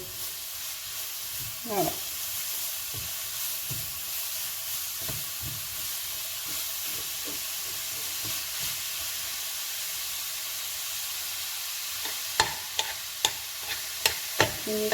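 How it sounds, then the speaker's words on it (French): Spaghetti squash sautéing in a pan gives a steady sizzle and hiss, with scraping stirs throughout and a run of sharper utensil knocks near the end; a voice speaks briefly. "Et on fait sauter tout ça."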